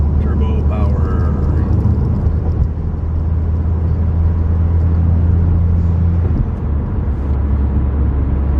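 A car engine pulls hard under turbo boost on an ordinary drive to work, a loud steady low rumble and whir filling the cabin throughout, with a brief dip partway before the drone settles back in.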